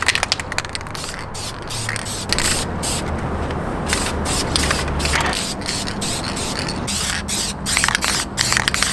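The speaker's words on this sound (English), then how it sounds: "So I'm gonna put a light coat of primer on." Light coat of primer sprayed from an aerosol can onto the intake manifold of a boosted Acura TL in a DIY paint job: steady close hissing with several short bursts and pauses, no talking.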